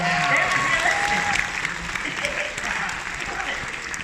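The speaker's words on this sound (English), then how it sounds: "Round of applause for that fur ball." Crowd applause at a Transformers panel at Comic Con Liverpool, steady dense clapping throughout, slightly tapering toward the end.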